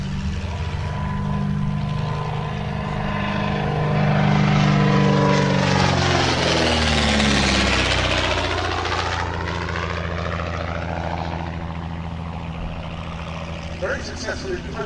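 A Speed 6 propeller aeroplane flies past, its piston engine droning and rising to a loud peak as it passes close, then fading away with a shifting pitch as it recedes.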